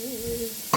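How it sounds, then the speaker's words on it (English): Bacon mixture added to a hot pan, starting with a soft stirring scrape and then a sudden burst of loud, bright sizzling near the end. "Sizzle."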